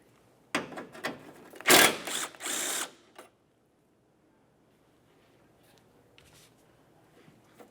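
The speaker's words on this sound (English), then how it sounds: "Now we'll remove this 10mm headed bolt on the outside." A power tool spins out a 10mm bolt from the headlight bumper bracket of a 2006-2011 Honda Civic in several short, loud whirring bursts, followed by near silence.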